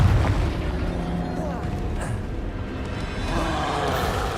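A Confringo blasting spell from Hogwarts Legacy erupts in a sustained, rumbling fiery boom that rolls on for several seconds amid dense combat noise, loud and close.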